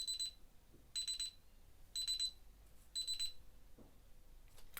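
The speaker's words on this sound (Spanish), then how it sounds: "Vamos a hacer una conexión de alarma." A security alarm system with a zone expander beeps in four evenly spaced bursts of rapid high-pitched pulses, about once per second, in an otherwise quiet room.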